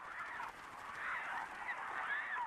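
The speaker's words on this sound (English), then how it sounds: "Some migratory birds die as they fail to fly south" Migratory geese honk in a dense, continuous chorus of overlapping calls, fairly loud and near, with no voices over them.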